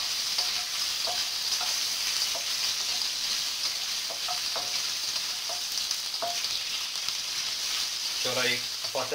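Sausage sizzling and frying in a pan with olive oil, a steady hiss throughout with occasional pops and a brief clatter near the end, close and fairly loud.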